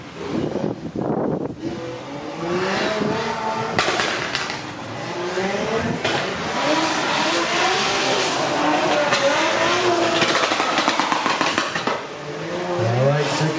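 A Nissan S13 drift car takes the first corner of a drift series qualifying round in Miri, Sarawak, its engine droning loud and steady, with tire noise and a commentator talking over it throughout.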